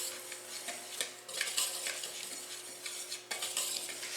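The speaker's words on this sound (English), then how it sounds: "I'm going to whisk that quickly." Tapioca flour and salt are whisked in a bowl, making quick, close, irregular scraping and tapping strokes against the bowl that go on without a break and with no talking.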